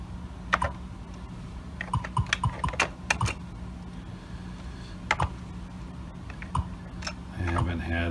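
Irregular bursts of clacking keystrokes rattle across an Atari 8-bit computer keyboard, close and distinct, with short pauses between flurries.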